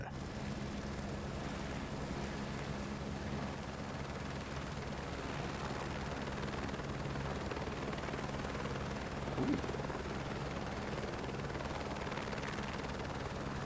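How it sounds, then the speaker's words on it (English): A helicopter in Microsoft Flight Simulator 2024 lifting off from a helipad, a steady, droning rotor and turbine whine that holds evenly throughout at moderate level, with no talk. "Take off from the helipad"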